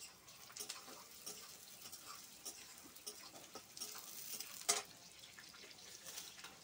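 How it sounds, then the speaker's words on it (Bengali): Potatoes sautéing in a pan in a home kitchen, a faint, steady sizzle with soft clicks and stirring scrapes of a utensil, one sharper tap standing out, no talking. "এবার আলুটা কষানো হবে"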